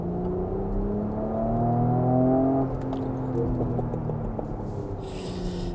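A Porsche Cayenne PHEV (2024 facelift) with its exhaust in Sport Plus mode gives a steady, loud engine drone with rising and falling harmonic tones. The engine eases off partway through, and a brief whoosh passes near the end.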